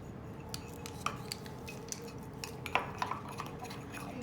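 Egg and sugar cake batter whisked in a bowl, a rapid run of light clinks and taps from the whisk against the sides, close but quiet, with a few sharper knocks.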